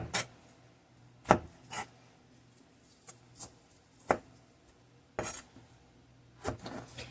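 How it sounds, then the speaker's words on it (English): A knife chops tiny sweet peppers in half and into half rings on a board, sharp, separate knocks arriving at an irregular pace with quiet gaps between them, close and clear. "I just cut them in half and then chop"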